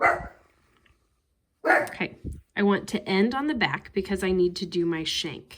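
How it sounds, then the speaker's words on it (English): A pet dog barks and whimpers indoors during a hand-sewing session, short sharp yips near the start, with a person talking over the later part. "Sorry about the dog."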